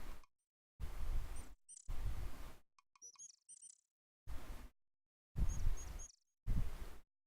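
Birds chirp in the Quest for Glory I video game, bright short tweets and trills between loud bursts of noise that start and stop abruptly.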